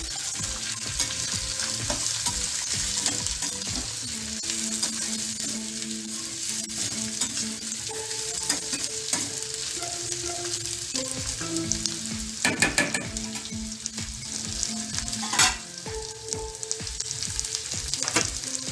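Bitter gourd (kakarakaya) fry stirred in a hot pan: a constant crackling sizzle with repeated scraping strokes of the spoon and an occasional louder knock, over a faint tonal melody in the background.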